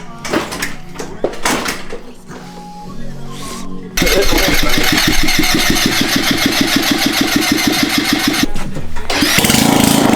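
A 150cc GY6 tandem scooter engine with roughly two-year-old fuel cranks and catches at about four seconds, then runs loud and close with a steady, rapid putter and rising throttle, after brief voices and handling noises beforehand.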